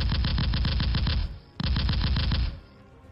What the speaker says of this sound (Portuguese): Eu levanto meu braço rapidamente e disparo meu fuzil de tempestade na outra figura.